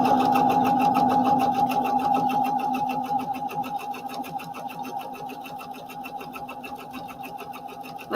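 A sewing machine runs continuously while stitching the side seams of a romper, a steady buzzing whir that gradually softens and sits close by.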